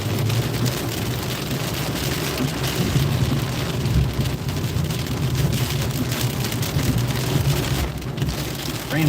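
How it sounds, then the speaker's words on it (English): Heavy rain pounds the road and a car while driving on a North Carolina highway, a dense, loud, unbroken roar with occasional low rumbles. "Raining hard, you hear that?"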